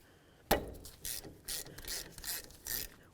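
A ratchet wrench works loose the 15mm caliper bracket bolts on a Buick LeSabre, a sharp initial crack followed by a handful of quick, close clicking strokes in an uneven rhythm.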